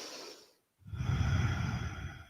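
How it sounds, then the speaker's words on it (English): Breath during a yoga stretch: a soft airy exhale fades out, then after a short pause comes a longer, fuller breath with a rough, noisy rush, close and clear, with no talking. "Inhale up, exhale down."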